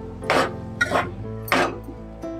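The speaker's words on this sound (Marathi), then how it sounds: "आता हे सगळं ढवळून घेते" Spoon stirring coconut rice with nutmeg and cardamom in a metal pot: three distinct scraping clinks spaced about half a second apart, then a lighter tap, close and clear over a steady low hum.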